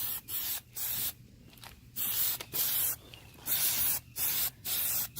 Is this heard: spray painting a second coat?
yes